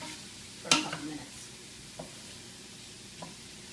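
Bell peppers and other vegetables simmer down in a pan for a Cajun dish: one sharp utensil clack, then a quiet, steady sizzle with a couple of faint taps later on.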